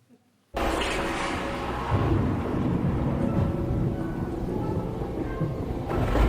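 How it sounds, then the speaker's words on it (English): Stage storm effect during a community college production of the Wizard of Oz musical: a sudden onset of loud, sustained roaring wind and rumbling thunder noise that holds steady and swells slightly toward the end. "There's a storm a-blowing."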